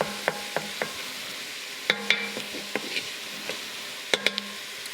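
Mushrooms and onions sauté in a pan, a soft continuous sizzle broken by sharp clicks and scrapes of a utensil stirring against the pan, no voices.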